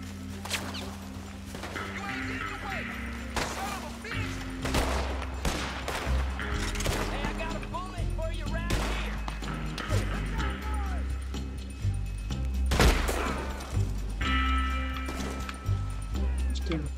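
Gunfire in the video game Red Dead Redemption 2 cracks out in scattered sharp shots and volleys over a busy game scene with barking dogs and horse sounds, while people talk throughout.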